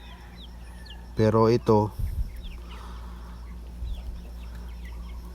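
Farm chickens, including Rhode Island birds, give a few short clucks up close, loud against a quiet background with a low hum, followed by faint rustling and a brief spoken word.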